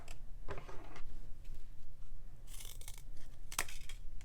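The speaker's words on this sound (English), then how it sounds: "so I'm going to use my scissors" Scissors cut thin craft wire for a bead figure: a few short, sharp snips and crisp clicks, separated by quiet pauses, close and fairly faint.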